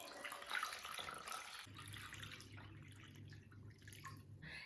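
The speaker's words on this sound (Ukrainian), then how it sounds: "Наливаю води." Water runs and splashes steadily into a metal pot holding glass jars, a continuous pouring sound with a low resonant hum underneath.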